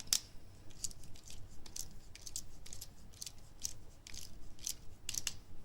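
Faint, close metallic clicks and short squeaks come in a loose rhythm about every half second as Victorinox CyberTool pliers tighten the screws of a clamp on an electrical extension cord, with no talking.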